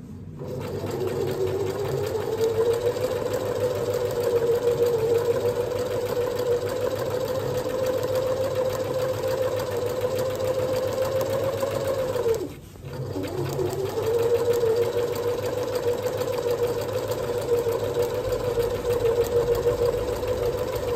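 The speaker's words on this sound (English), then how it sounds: "I'm going to run 2 rows of gathering stitches over the top of the skirt" A sewing machine stitches two gathering rows along the top of a dress skirt, running as a loud, steady close whir that pauses briefly about midway and then resumes at the same pace.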